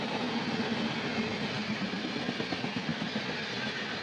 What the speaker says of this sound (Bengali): দেখো ভুবনেশ্বরের দিকে একটা ট্রেন যাচ্ছে